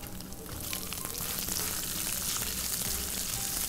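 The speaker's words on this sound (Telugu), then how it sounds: "ఉల్లిపాయ కొంచెం మగ్గాలి, లైట్గా మగ్గడానికి పైన మూత పెట్టుకుందాం" Chopped onion and ginger frying in a pan, a steady, dense sizzle that holds at an even level throughout, close by and with no voices.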